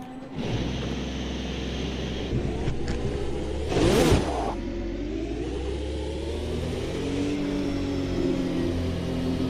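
A Formula 1 car engine in the Automobilista 2 (AMS2) racing sim drones steadily, rising in pitch as it accelerates on track, with a short loud whooshing burst midway and a continuous whine beneath.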